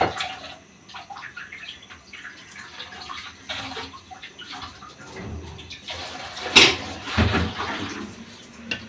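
Water poured into a cooking pot of vegetables set to boil: a soft splashing, gurgling pour that swells toward the end, close and fairly quiet, with faint kitchen clatter.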